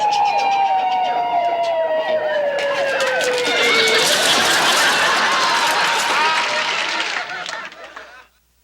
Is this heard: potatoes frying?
no